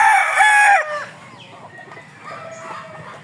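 A hen clucks loudly and repeatedly in a farmyard after laying an egg, a brief burst of cackling that drops to softer, scattered clucks.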